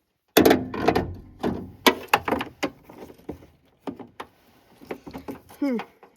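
A ratchet works on a bolt on a 1984 first-generation Chevy S10 during a wiper fluid tank repair, giving irregular metallic clicks and knocks in close bursts, with a person speaking between them.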